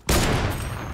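A single loud sniper rifle shot fired in the no-build Fortnite trio cash cup, a sharp crack that rings and decays with a long echoing tail, heard alone with no talk.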